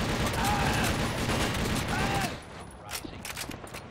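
Rapid bursts of gunfire from soldiers and weapons in the shooter game TimeShift, dense and loud for a couple of seconds before thinning to a few scattered shots.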